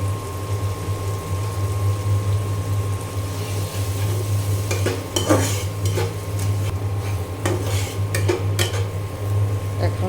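Spice paste of chili powder, salt, ginger, cumin and garlic paste sautéed for a chicken curry, with steady scraping and clinking of a utensil against the pan over a low constant hum and faint sizzle.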